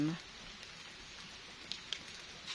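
Soft, steady rain hisses in the background over rice fields during a storm, with a couple of faint drips ticking through the quiet.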